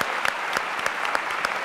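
A television studio audience applauds the Auxerre football coach with steady, rhythmic clapping, the claps landing together in regular beats at a moderate, slightly distant level.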